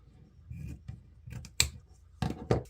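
Scissors snip through a ribbon tail while a summer wreath bow is made, several crisp separate cuts close by, with soft rustling handling between them and no speech.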